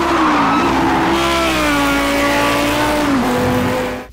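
Race car in the video game Project Cars 2, its engine roaring loud and close as the pitch climbs and shifts through gears, with tire squeal mixed in before it cuts off.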